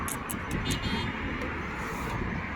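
Cars and other vehicles pass along a busy road in Saudi Arabia, a continuous broad traffic roar, fairly close and steady, with brief higher hissy bursts near the start and faint voices mixed in.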